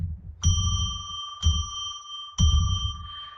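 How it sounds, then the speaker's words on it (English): A bell rings three times at a slow, even pace, each strike clear and close and leaving a long ringing tone that fades before the next. "Going to ring a bell 3 times to declare sacred space."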